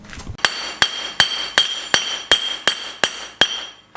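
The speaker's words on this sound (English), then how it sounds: "I'll put the spacer over it and I'll hit that with a hammer" A hammer strikes a spacer set over steel plates on a garage floor, ringing out nine sharp metallic blows at an even, steady pace, close and loud with a bright clanging ring after each hit.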